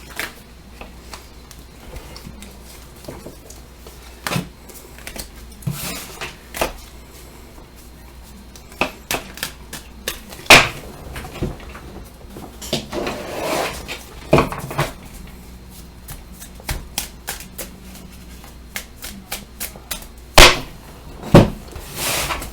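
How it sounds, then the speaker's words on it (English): A deck of tarot cards shuffled by hand, with repeated riffles, taps and soft slaps in irregular bursts, close up and moderately loud with no voices. "Shuffle these up a little bit."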